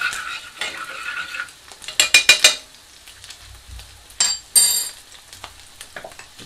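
Garlic oil sizzling in a pan while a utensil stirs it: a soft frying hiss underneath, broken by clusters of sharp scraping and clinking strokes against the pan, with a couple of quieter gaps.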